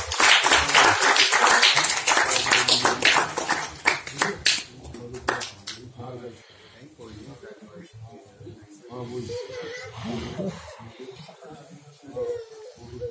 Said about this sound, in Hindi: सब लोग तालियों से स्वागत करें।